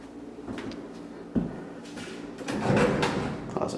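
Closet doors in an old family house being opened and shut: a sharp knock, sliding rumble and rattling thuds close by, with no one speaking.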